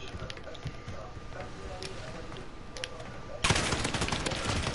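Video game gunfire crackles in rapid bursts, growing louder and denser for the final second, under a steady background of game noise with faint voices.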